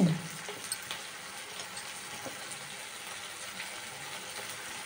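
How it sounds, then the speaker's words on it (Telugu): Puffed rice upma being stirred in a hot pan, a continuous soft sizzle with faint scraping from the stirring, close and steady throughout. "ఇప్పటిదాకా కలబెడుతున్నాం."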